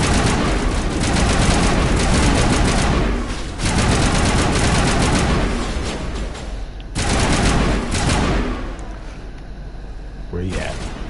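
Dense gunfire from Mass Effect Legendary Edition, loud sustained bursts of rapid shots that pause briefly and then resume, with explosive booms mixed in and game sounds filling the gaps.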